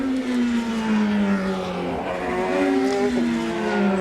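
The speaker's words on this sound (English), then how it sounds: "These cars doing about 170 as they come into that turn one area." Formula 3000 race cars at about 170 mph sweep into turn one in Brazil, a loud sustained engine whine with a falling pitch as they pass, followed by another car's rising note close behind.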